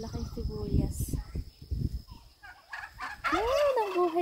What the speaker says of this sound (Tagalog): Ingay ng pabo.